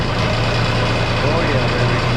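A Kioti tractor diesel engine runs in a steady, loud, low rumble close by, holding an even idle throughout with no pauses.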